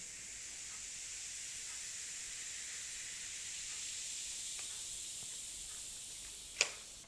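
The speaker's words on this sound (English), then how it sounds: "it's fizzing" Baking soda sprinkled on a tomato sauce stain on a baby chair fizzes with a soft, steady high hiss close up, ending with a brief sharp tick.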